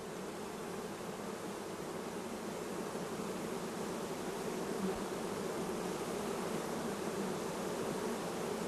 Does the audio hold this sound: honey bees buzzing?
yes